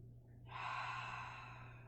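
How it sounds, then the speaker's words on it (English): Forceful exhale pushing all the air out during a yoga breathing exercise, a single breathy rush rising about halfway through and holding steady over a low background hum. "Exhale, push all the air out."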